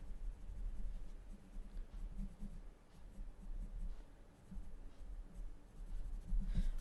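Prismacolor colored pencil scratching steadily across paper while darkening the corners of a drawing of pink hair with black, a close, continuous soft rasp with small rhythmic swells and no talking.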